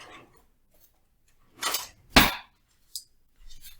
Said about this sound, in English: I'm going to get my knife. I'm using a plastic blue knife, a spatula,